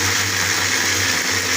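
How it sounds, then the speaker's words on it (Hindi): An electric blender runs steadily and loudly throughout, a continuous whirring motor hum with no talk over it, while eggless homemade mayonnaise is being made. "अब सबसे पहले यहाँ पर मैं ब्लेंडर को चला लूँगा"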